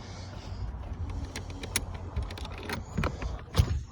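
A car engine idles quietly in the background, a steady low hum with a few small clicks and knocks on top.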